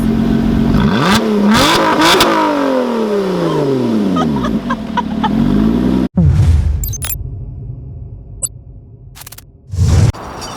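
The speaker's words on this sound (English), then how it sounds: "with a simple push of exhaust button, you get this" A 2020 Lotus Evora GT sports exhaust revs up and down with loud rising and falling roars, then crackles and pops, ending with another short blip.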